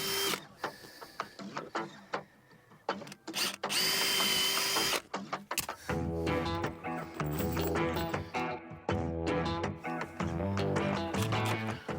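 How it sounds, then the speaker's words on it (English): Power drill pre-drilling holes in pallet wood for a raised garden bed, a loud steady whine that revs and bogs in several bursts, with rattling and a brief high spin-up. "we pre-drilled the holes"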